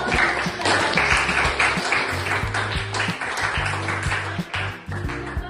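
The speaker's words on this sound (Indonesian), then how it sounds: "Baik sekali, tepuk tangan dong untuk" Students in a vocational high school classroom in Indonesia clapping their hands, a loose burst of claps that dies away quickly, with steady humming tones and scattered taps mixed in.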